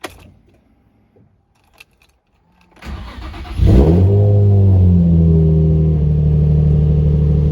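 Nissan 350Z, not fully warm, starts up after a moment of quiet rustling and jingling keys: the starter catches, the engine flares loudly through its exhaust, then settles into a steady, deep, loud idle close by.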